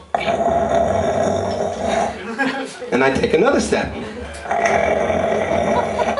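A voices loud, drawn-out snoring noises, pausing once to speak briefly, then imitates snoring again.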